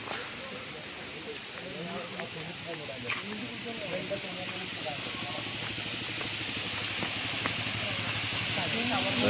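Steady broadband rush of a waterfall near Manjoor hill station close to Ooty, a constant hiss growing slightly louder, with someone talking over it throughout.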